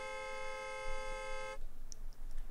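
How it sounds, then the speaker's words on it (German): A car horn in the city-building game Cities XXL sounds as one steady, held honk for about a second and a half, then cuts off and leaves faint street ambience. "Hupen die, wenn ich über die Straße gehe?"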